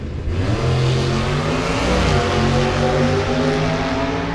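Drag racing cars launch side by side from the start line, a Generation 2 car in the left lane and a Generation 3 car in the right, with a sudden loud engine roar that builds and holds, heavy and close.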